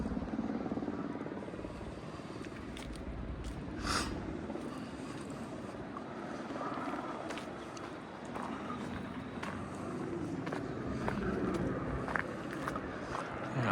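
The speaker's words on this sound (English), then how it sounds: "You got helicopters" Helicopters circle over a wildfire zone, a steady low rotor rumble continuing for the whole stretch with scattered outdoor noise and clatter layered on top.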